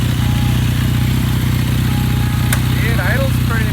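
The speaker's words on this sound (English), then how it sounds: "Chris, firing up the KZ400." A Kawasaki KZ400 motorcycle with a converted 2-into-1 Mikuni VM34 carburetor idles with a steady, loud, close thrum, and voices talk briefly over it.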